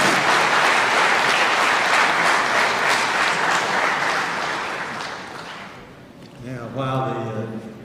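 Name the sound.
audience applause for debate candidates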